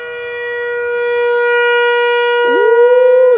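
A very loud tornado siren wails close by as one steady, sustained tone that rises slightly and then bends near the end, with no voices over it.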